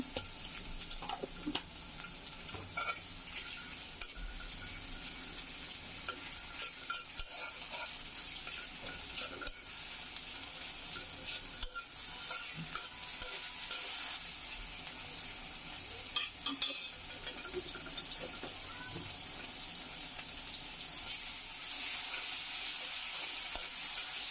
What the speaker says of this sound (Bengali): পেঁয়াজ, কাঁচামরিচ দিয়ে নাড়াচাড়া দিয়ে দিচ্ছি